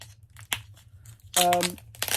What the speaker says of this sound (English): The tape is really stuck.